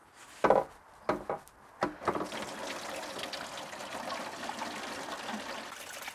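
A few sharp knocks and clunks, then coolant from a 4x4's radiator trickles steadily, draining and splashing nearby at an even level.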